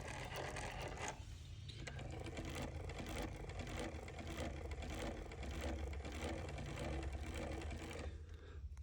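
A Mannan King chainstitch embroidery machine running with its motors off, giving a faint, steady mechanical ticking and whirring rhythm that carries on throughout.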